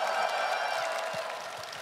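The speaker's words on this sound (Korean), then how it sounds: "박수 한번 주십시오" A concert audience at a Lost Ark winter special concert claps in a broad, steady wash of applause that fades slightly toward the end.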